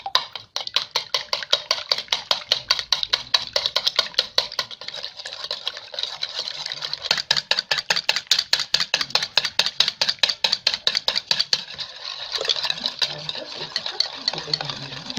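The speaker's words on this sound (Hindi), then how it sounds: "अब अंडे तोड़कर अच्छी तरीके से मिक्स कर लेते हैं।" Broken eggs beaten in a bowl for an oven-free sponge cake, a fast, steady run of close, sharp clicking strokes against the bowl that keeps going with brief pauses and a change of pace near the end.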